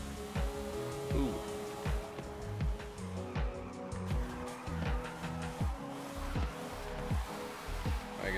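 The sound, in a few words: Mercedes E55 wagon drifting with tire squeal in Forza Horizon 5 video game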